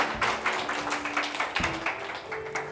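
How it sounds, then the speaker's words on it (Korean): A youth congregation at a Korean church worship service claps together in praise, a dense, rhythmic stream of hand claps with a steady pulse and a lingering sustained tone underneath. "우리 하나님께 감사와 찬양의 박수를 함께 드리고요."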